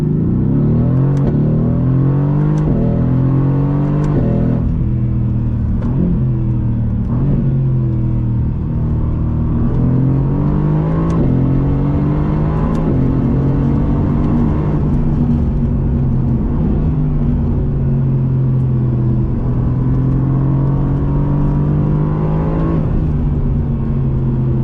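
A 2019 Mercedes-AMG GT R accelerates hard, its engine roaring loud and close as revs climb through repeated gear changes, each upshift dropping the pitch before it rises again, with no talk over it.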